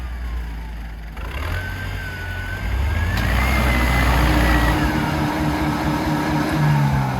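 A vehicle engine revs and strains while trying to tow a stuck load in jerks during a hunt in the Arkhangelsk region, a steady loud drone with rising whining tones and bursts of heavier throttle.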